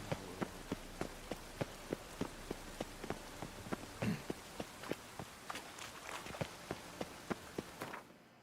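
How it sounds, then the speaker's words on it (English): Rain pattering in The Witcher 3: Wild Hunt, with a steady wash of falling drops under a regular series of crisp footsteps walking through it. "Rain again."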